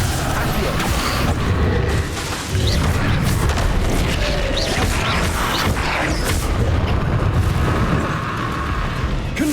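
Booming blasts from the Confringo curse in Hogwarts Legacy sound repeatedly in a busy battle mix, loud and rumbling, and spoken voices overlap them.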